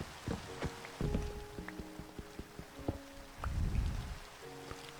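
Rain falls in the Minecraft video game as a soft, steady patter, mixed with sharp clicks, tonal game blips and a couple of brief swells of louder noise.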